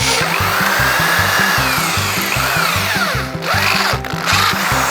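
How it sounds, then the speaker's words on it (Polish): A power drill runs steadily at slow speed with a whining hum and a rapid pulsing rhythm as it bores into metal, close and loud. "bierzemy wiertarkę. Oczywiście w metalu wiercimy."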